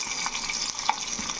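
Tempering crackles in a pan after the ingredients were boiled in water, a steady close sizzle with a few sharp pops scattered through it.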